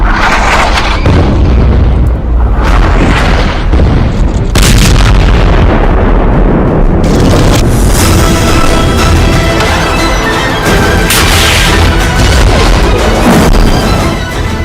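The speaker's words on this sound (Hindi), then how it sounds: "इजराइल लेबनान बॉर्डर पर दागी गई एंटी टैंक मिसाइल।" An anti-tank missile fired at the Israel-Lebanon border: loud booming blasts and rumbling explosions in continuous, heavy, distorted footage lasting several seconds, with repeated impacts.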